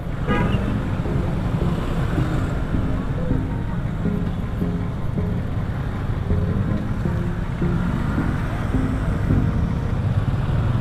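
Congested road traffic in Indonesia rumbles on steadily, with repeated car horn toots over the engine noise and a person talking nearby.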